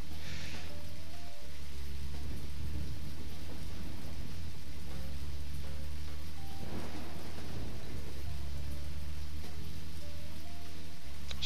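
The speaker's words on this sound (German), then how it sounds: "Diese Ambient Sounds vom Regen." Rain ambience in the video game Deadly Premonition, a steady hiss of falling rain under low tonal background music with occasional soft rumbles, continuous and moderately loud, with no voices.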